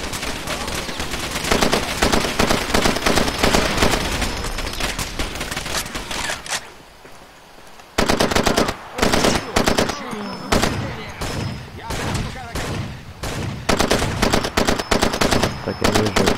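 Bursts of rapid automatic gunfire in the Far Cry 2 video game crackle loud and close, with dense sustained volleys, a brief quieter gap, then renewed choppy firing in short strings.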